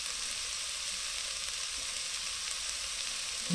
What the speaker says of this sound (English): you want your onion and garlic and all of those nice aromatics to brown off